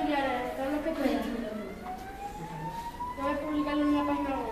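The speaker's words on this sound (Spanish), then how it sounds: "Voy a llamar a la ambulancia." An ambulance siren wails after a traffic accident, its rising and falling tone sweeping steadily at moderate loudness.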